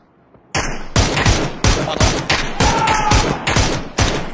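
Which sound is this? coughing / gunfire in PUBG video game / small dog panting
gunfire in PUBG video game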